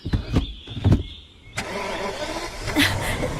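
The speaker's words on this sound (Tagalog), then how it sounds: "Teka, umaandar na siya, Troy." A car engine cranks with a few sharp starter bursts, catches at once and settles into a steady, moderately loud idle, with no one speaking.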